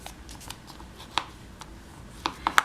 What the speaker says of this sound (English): And fold it point to point again